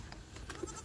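Goats bleat faintly at a farm while being fed, a brief bleat rising over a noisy outdoor background with no talk.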